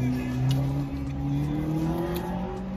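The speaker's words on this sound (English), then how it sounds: "Y'all hear motorcycles and all of that stuff." Motorcycle engines revving on a nearby road, heard through an open car window, a steady rising drone with gear-shifting pitch changes, loud and continuous.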